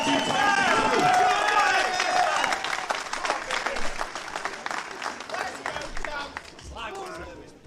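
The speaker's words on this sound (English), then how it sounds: "can we have a massive round of applause for the final 9" A large poker tournament crowd bursts into loud, sustained applause and cheering for the final table that gradually tapers off, with scattered whoops over the clapping.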